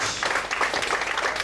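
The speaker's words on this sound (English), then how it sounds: "give applause to the judges" A short, steady burst of audience applause for the judges at a slam poetry competition, dense clapping throughout with a faint voice mixed in.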